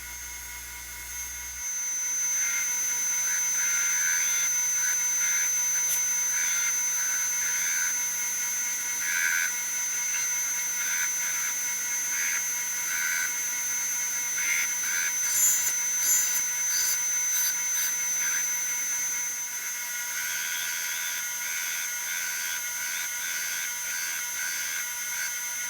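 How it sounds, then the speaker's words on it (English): A grinder works the blade of a sword during final finish grinding before heat treat, a steady high whine and hiss running throughout with small shifts as the blade is worked, close and loud with no talk. "Now I'm moving to the final finish grinding I do before heat treat."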